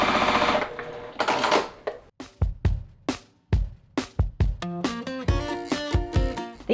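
A sewing machine stitches small quilt block pieces in short, sharp bursts of rapid needle clatter separated by pauses, close and loud, with a longer sustained run of stitching near the end.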